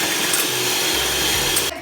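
An electric mixer whirring steadily and loudly at close range while beating four eggs with a pinch of salt, the motor holding a constant drone before cutting off near the end.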